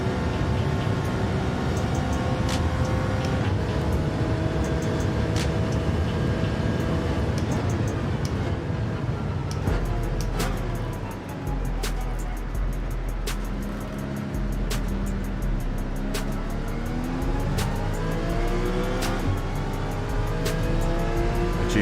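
A race car engine in Gran Turismo 7 roars loudly and steadily for the whole stretch, climbing and dropping in pitch through repeated gear shifts, with no talk over it.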